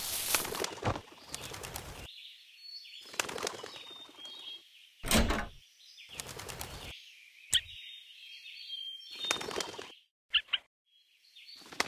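Birds in the video game A Bird Story: several bursts of wing flapping alternate with high chirps and short tweeting calls over faint game background sound, with gaps of near silence and a few sharp clicks near the end.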